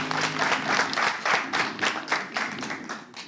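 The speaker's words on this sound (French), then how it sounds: "Applaudissez-le quand même." An audience claps for a few seconds at a live hosted event, a close, rhythmic patter of many hands with a voice briefly over the start.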